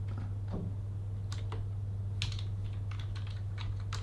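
Keystrokes on a computer keyboard, including a weak-feeling spacebar, tapped during a VoidLinux install: scattered irregular clicks at close range over a steady low electrical hum, with no talking.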